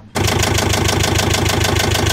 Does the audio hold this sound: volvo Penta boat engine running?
yes